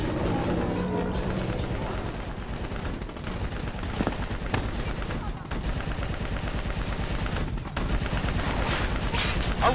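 Dense, continuous gunfire and explosions from a Call of Duty Black Ops III battle against a VTOL and an APC, loud throughout with game dialogue mixed in.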